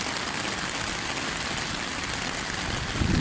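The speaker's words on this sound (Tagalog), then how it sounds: "Matakas pa rin ang ulan." Heavy rain pours steadily over a flooded street in the Legarda–Mendiola area, a dense, unbroken hiss of downpour and running water, loud and close throughout with no voices.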